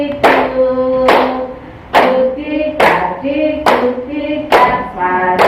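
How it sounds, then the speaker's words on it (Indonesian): Sharp hand claps in a steady rhythm, about seven loud, close strikes roughly a second apart, each with a ringing tail, as an audience claps along during an Indonesian teacher-training session. "Tepuk tangan."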